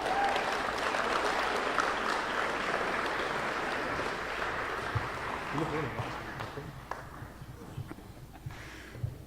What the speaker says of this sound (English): Let's give another round of applause for Dave Brummel.